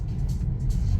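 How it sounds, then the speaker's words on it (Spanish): A car moves along on its own, giving a steady low engine and road rumble close by, continuous for about a second with no talk. "Verde y se está moviendo solo el auto."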